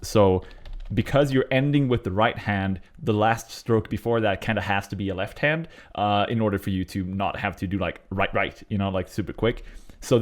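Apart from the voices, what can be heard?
None of the usual background noises is heard.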